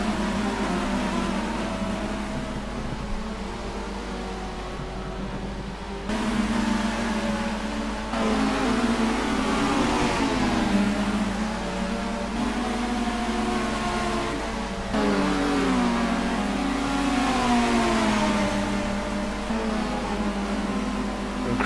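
Touring cars race at Rockingham in a BTCC 2014 sim racing game, a steady engine drone with rising and falling revs and gear changes, loud and continuous throughout without speech.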